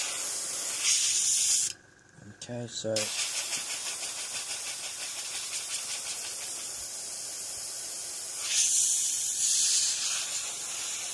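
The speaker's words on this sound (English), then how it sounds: "then spray it out just to clean" An airbrush with a 0.3 needle sprays paint through to clear it between colours, giving bursts of bright, steady hissing with a short break in the middle where a voice speaks briefly.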